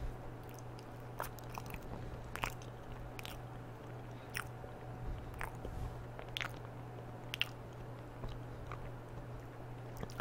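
Close-up bites and soft, wet chewing of a banana, with scattered crunchy clicks over a low steady hum, no talking.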